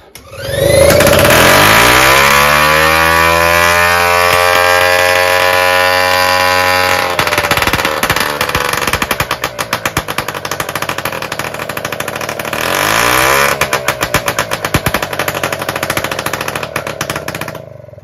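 A small two-stroke Solex 1700 moped engine, fitted with a new fuel pump, sputters into life, revs up to a high buzzing whine, then idles and revs again, loud and close throughout.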